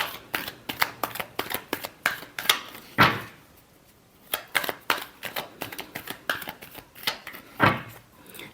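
Tarot cards are shuffled in quick, crisp bursts close up, with a steady run of riffles and taps, a few louder flicks, and brief pauses between them.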